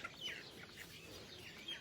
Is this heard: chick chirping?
yes